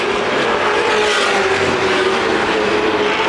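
Late model race cars circle Winchester Speedway in the late laps of a CRA Late Model Sportsman 50, a steady loud roar of engines close by with a sustained droning pitch throughout, no voices.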